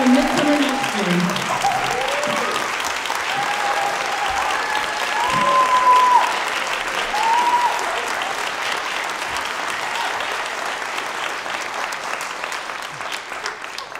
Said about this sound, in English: Not enough applause.